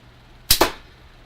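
A gun fired at a can: a sharp close report followed within a split second by a second crack, likely the can being hit, then quiet.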